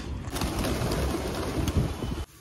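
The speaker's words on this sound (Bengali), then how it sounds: "আজকে অনেক কম পায়রা এসেছে।" Pigeons cooing close by, low rolling coos layered over each other with a little wind noise before stopping abruptly.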